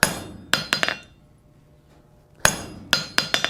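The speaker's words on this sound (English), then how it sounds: "Give it a couple good whacks here, and it cuts right down just like what we want into the material." A hammer strikes a hand-forged cold chisel into a piece of material in a workshop, sharp ringing metallic blows in two quick clusters of three or four, separated by a quiet pause, with no speech.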